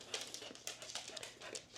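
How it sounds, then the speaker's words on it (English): A needy dog pants in quick, breathy bursts mixed with soft whimpers, faint and close, continuing steadily without any talking. "Very needy dog."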